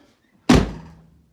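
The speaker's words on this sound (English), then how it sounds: "Doors close" A worn Ford Econoline van's door slams shut once, a close, loud, solid thunk with a short metallic ring that decays over half a second.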